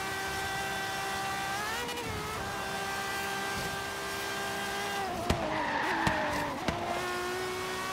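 Ferrari 599XX racing in Forza Horizon 3 on the Goliath circuit, a fully upgraded four-wheel-drive car: a steady, loud high-revving engine drone that dips and climbs with gear changes, then tyres squeal and skid in several sharp bursts near the end.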